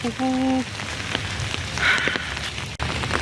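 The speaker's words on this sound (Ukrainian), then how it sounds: "І взагалі хотілося прогулятися під дощем." Rain falling steadily in a park during a walk, a close patter of drops on surfaces, with a few short tonal sounds early on and brief faint noises mixed in.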